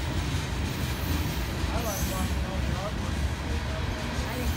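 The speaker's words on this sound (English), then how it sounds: "Is it very often that one whole train like this comes by?" A long Norfolk Southern freight train hauled by three BNSF engines rolls past at Cove, Pennsylvania, a continuous loud rumble and wheel noise with faint squeals, while people talk nearby.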